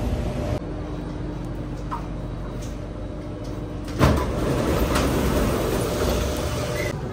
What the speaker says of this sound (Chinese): 坐地铁过去